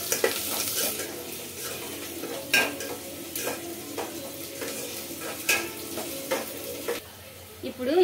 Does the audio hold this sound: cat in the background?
no